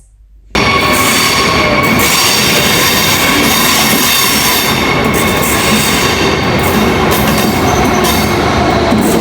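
A train departing from a platform rumbles steadily after a brief quiet start, loud and close, with continuous wheel noise and occasional high squeals, no voices.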